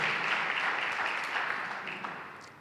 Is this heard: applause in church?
yes